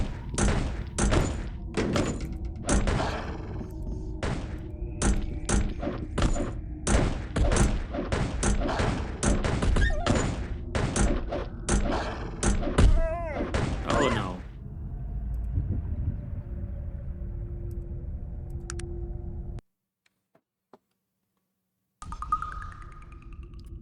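Rapid volley of gunfire from a gun in the Arcanum role-playing game, dense repeated shots for about fifteen seconds, then quieter game sounds, a brief silence and a final tone.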